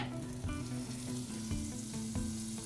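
Butter sizzles and crackles in a hot cornbread pan, a close, steady frying hiss with small pops and no voices.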